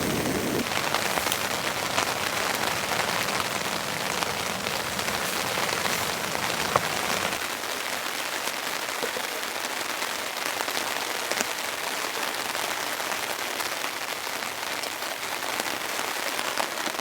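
Heavy rain pours onto a tent while camping, a dense, constant hiss and patter that stays loud and even across the whole stretch, with no voices.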